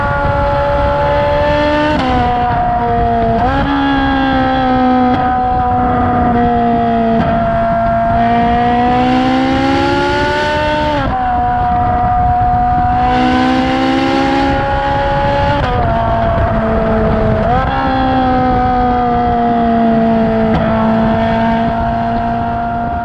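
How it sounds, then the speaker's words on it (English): A stock Ferrari 458 with its naturally aspirated mid-mounted V8 supercar engine and exhaust revs hard in loud, sustained wails that rise and fall repeatedly through gear changes, close and dominant throughout. "stock, the 458 sounds absolutely brilliant"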